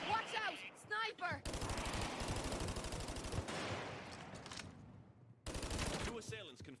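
Rapid automatic gunfire in the Payday 2 heist game Bank Heist, dense bursts of shots lasting several seconds, loud and close, with game voices shouting warnings before and after.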